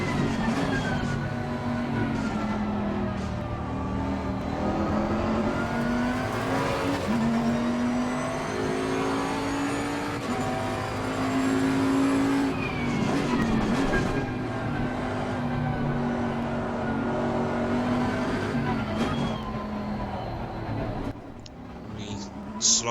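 A Bentley GT race car in Assetto Corsa Competizione drives a lap, its engine droning loud and steady with rising and falling pitch through gear changes, while someone talks over it throughout.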